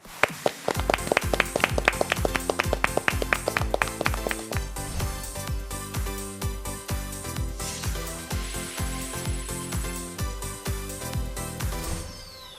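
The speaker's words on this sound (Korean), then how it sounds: "박수로 맞아주세요" A studio audience at a Korean real estate broker exam lecture for seniors claps to welcome the lecturer. The sharp, rhythmic claps keep time over upbeat music, start loud and then settle under the music.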